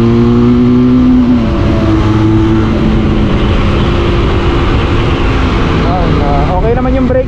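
A Benelli cruiser motorcycle, a 502C or 600i, pulls hard on a test drive. Its engine drones loud and close, pitch climbing through the gears, with a rider's voice over the steady roar.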